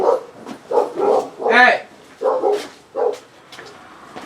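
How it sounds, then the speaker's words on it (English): Several dogs bark in short repeated bursts at someone walking past on the street, fairly close and loud, with a man briefly calling out between the barks. "The dogs are barking at a guy walking down the street"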